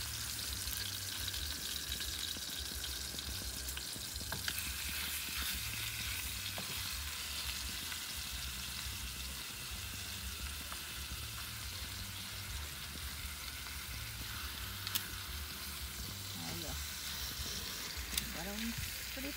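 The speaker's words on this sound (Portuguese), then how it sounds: "Olha o barulhinho do fritar." A pork chop fries in a pan at a family riverside campsite, giving a constant loud sizzle with occasional clinks and faint voices talking in the background.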